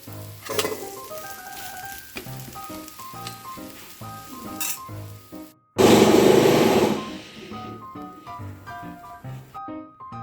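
An eggless corn omelette frying in a pan gives a steady close sizzle under background music, swelling into a loud hiss for about a second partway through before settling back.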